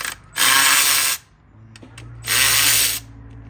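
Power tool zipping bolts out of the fuel rail on a 2014 BMW 328i GT xDrive during valve cover gasket work, two loud close whirring bursts under a second each, separated by a quieter pause with a faint click.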